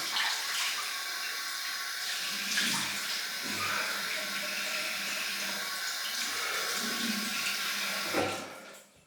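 A bathroom tap runs steadily for a cold water rinse after shaving, a continuous close splashing stream with a few heavier splashes before it cuts off at the end.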